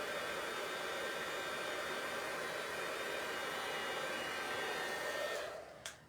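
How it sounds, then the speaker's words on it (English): A heat gun blows steadily to dry paint, giving a constant close rushing airflow hiss that cuts off near the end with a faint click. "I'm going to give this a quick blast with my heat gun"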